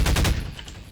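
Rapid gunfire from the Half-Life 2 shooter rattles off in a quick burst of about four close, loud shots, then trails away into a fading echo.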